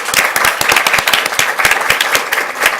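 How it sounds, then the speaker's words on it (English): A burst of loud, close applause from a small group at a school board meeting, with sharp individual claps in a quick, uneven rhythm. "Let's give her a round of applause."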